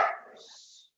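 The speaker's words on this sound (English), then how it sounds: "My dog's barking." A pet dog barks once close by, a short sharp bark fading into a brief whine, heard alone in a quiet room.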